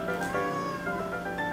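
A cat meows close by, making a short, tonal, drawn-out call in a quiet indoor setting, with no talking over it.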